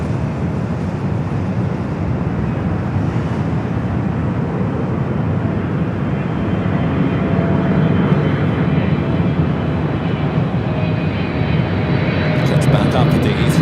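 An Emirates A380 rolls down runway 24 left at Los Angeles, a loud, continuous low engine rumble filling the whole stretch, with a voice talking over it.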